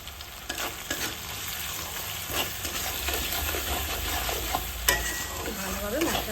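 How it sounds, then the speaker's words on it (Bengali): Onions with salt and turmeric are sautéed in a pan for a bottle gourd and prawn dish, giving a continuous close sizzle with repeated scraping stirs of a spatula and a few sharper knocks. "ভালোভাবে মশলাটা কষিয়ে নেব"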